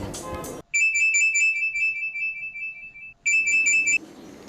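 A phone ringtone chirps in two bursts of rapid electronic beeps, loud and close, with a pause between them and brief noise before.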